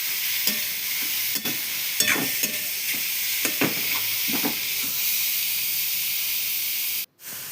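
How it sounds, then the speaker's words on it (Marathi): Carrot malwa frying in a pan gives a steady close hiss and sizzle, with occasional scraping stirs from a spoon. The sizzle cuts off abruptly near the end, and no one speaks. "असं परतून घ्यायचं"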